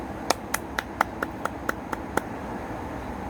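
A small scattering of audience hands clapping at a talk in a hall, about a dozen sparse, uneven claps spread over a few seconds, fairly faint against a quiet room.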